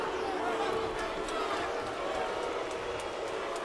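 Boxing match crowd reacting with displeasure: a dense, steady roar of many voices filling the arena, loud and unbroken throughout, with no clear individual words.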